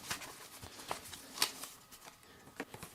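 Paper lobby cards from DVD packaging are shuffled and handled, a soft continuous rustle with a few crisp flicks, close and fairly quiet.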